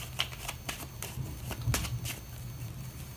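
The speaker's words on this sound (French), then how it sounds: "Alors on va prendre 4 cartes" Tarot cards riffled and drawn from a divination deck, a series of soft close papery flicks and snaps with quiet gaps, faint and alone.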